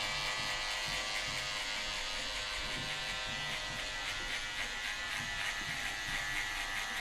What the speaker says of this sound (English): I'm going to take my trimmer. I'm going to knock down all this stubble.